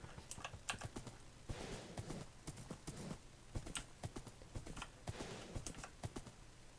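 Horse hooves clip-clop steadily in the video game Dark Times, a quiet, even run of sharp knocking steps repeating close by with faint background ambience and no talking.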